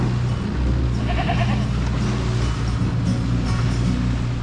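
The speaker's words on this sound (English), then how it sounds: "there's goats on the beach and there's a little baby" Goats, including a young kid, bleat on a rocky beach in the Ragged Islands, a few short cries rising over a constant loud drone of wind and boat motor.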